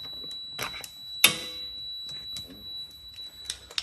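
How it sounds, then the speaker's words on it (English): A single sharp electronic warning beep rings out near the mic from a jump starter connected with reversed cables, standing alone amid faint clicks and handling noise. "it gives you the red light and that audible beep telling you you've got it all wrong"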